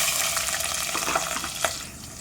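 Onion frying in hot oil with popped mustard and fenugreek seeds, a dense close sizzle with small crackles and a stirring clatter.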